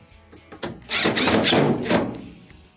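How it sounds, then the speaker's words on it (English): A power driver with a Phillips bit runs screws into a Maytag dryer, its whirring motor surging in two close bursts of about a second each, with a few clicks and knocks around them. "Reattach your 2 screws inside."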